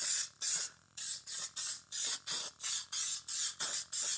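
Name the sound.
spray adhesive can spraying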